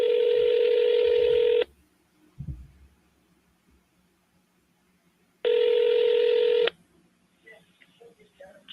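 An outgoing phone call gives two long, steady electronic ring tones separated by a few seconds of near-silence with faint background noise.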